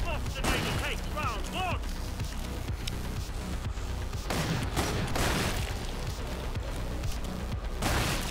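Gunfire in the video game Killing Floor, rapid shots and booms firing continuously under steady talk, with some ringing tonal effects mixed in.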